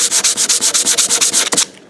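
Wood veneer shim for a guitar neck heel being sanded by hand with 100 to 120 grit sandpaper, a loud, steady series of about twelve quick rhythmic rasping strokes close up, ending abruptly.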